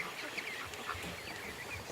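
Ducks quacking near a home yard at night, several overlapping calls with a few sharper honks scattered through a steady, busy flock chorus, fairly close.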